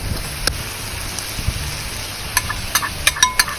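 Pork with shrimp paste, stink beans and sliced kaffir lime leaves sizzles in a hot pan while a utensil scrapes and clatters against it in quick, irregular stir-frying strokes near at hand.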